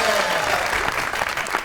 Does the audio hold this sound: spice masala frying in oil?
no